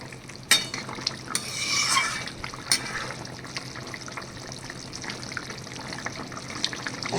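A spicy taro, potato and fish curry simmers in a pot after salt goes in, giving a low steady bubbling with a few brief stirring clinks near the start; no one speaks.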